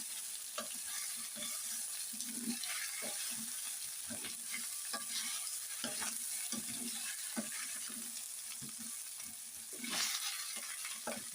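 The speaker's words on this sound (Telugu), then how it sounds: "ఈ సొరకాయ ముక్కలు అల్లం వెల్లుల్లి పేస్ట్ ఆయిల్లో బాగా మగ్గాలండి" Bottle gourd pieces with ginger garlic paste cook slowly in oil, giving a steady close sizzle and frying crackle with repeated soft stirring scrapes, no talking.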